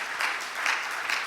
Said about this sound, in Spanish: Dale un aplauso de alabanza al Señor.